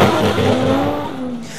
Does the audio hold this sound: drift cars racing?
yes